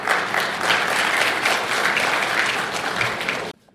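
An audience claps warmly to welcome the mayor at a New Year press briefing, steady dense applause that carries on for several seconds and then cuts off abruptly.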